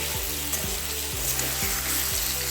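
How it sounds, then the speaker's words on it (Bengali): Taro stems hit hot mustard oil with five-spice in a kadai, giving a steady, loud broadband sizzle throughout, with a low tonal hum and a few soft stirring scrapes underneath. "কড়াইয়ের মধ্যে দিয়ে দিচ্ছি সর্ষের তেল এবার দিয়ে দিচ্ছি পাঁচ ফোড়ন ওলের ডাঁটা দিয়ে দিলাম"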